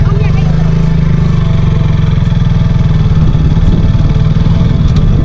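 A motorcycle engine idles in a steady, continuous mid-pitched drone with young passengers aboard, loud and close, while people talk over it.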